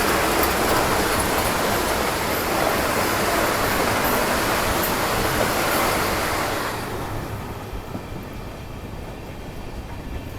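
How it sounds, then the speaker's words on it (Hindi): A Vande Bharat Express train rushes past in a loud, steady roar of wheels and air that holds for several seconds, then drops to a softer rumble as it moves away. "ये निकली आपके वंदे भारत एक्सप्रेस"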